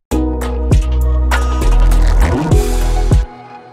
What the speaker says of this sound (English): I'm just gonna add a little bass fill that will lead into the second half of the chorus